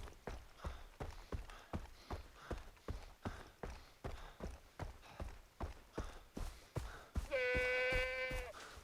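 Rhythmic hoofbeats thud steadily in the video game Far Cry 3, then a goat lets out one loud, wavering bleat near the end.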